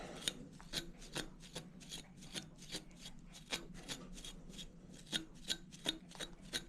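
Scissors snip steadily through matted fur on Reno, a dog being groomed, with about twenty crisp, close cuts coming in a quick, fairly even rhythm and no talk over them.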